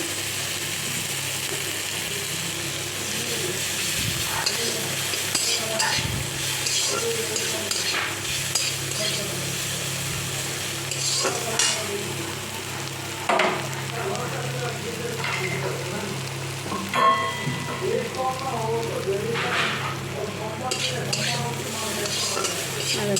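Ginger paste fries in a pan while a spoon scrapes and stirs it, giving a steady sizzle broken by repeated clattering scrapes and knocks close by, with a faint low hum underneath.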